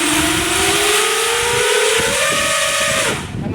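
Electric motors of an Eachine Falcon 250 quadcopter whine loudly and close up on a first takeoff attempt, the pitch rising steadily for about three seconds before the motors cut off abruptly.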